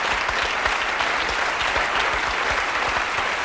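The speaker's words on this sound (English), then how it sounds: "Give him a round of applause." A live television studio audience at a Halloween paranormal broadcast on Pendle Hill claps steadily, a dense, even round of applause filling the whole stretch.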